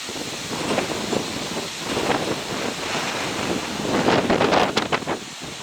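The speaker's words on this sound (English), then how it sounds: "Still very windy." Strong gusting wind from Tropical Storm Isaias in Connecticut buffets the microphone in steady roaring waves, swelling into louder rushing gusts toward the end, with no voices.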